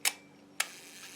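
The shutter release of a Rolleiflex Model T camera gives two soft, crisp clicks about half a second apart, close by and quiet.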